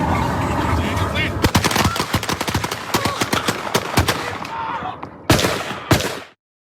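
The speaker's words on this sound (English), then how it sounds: "You heard the 2 gunshots at the end of all of those shots." Rapid gunfire from police officers shooting in a volley, a dense burst of many loud, close shots in quick succession, followed after a short pause by two final separate shots before silence. Voices are faintly mixed in.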